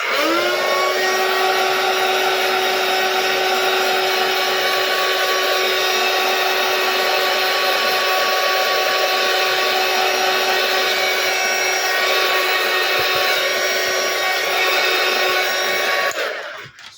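A heat tool drying Versafine ink runs as a loud, steady, whirring blow for about sixteen seconds, then cuts off abruptly at the end; no one speaks.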